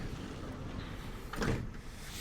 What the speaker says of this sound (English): We'll open up the side loading door then.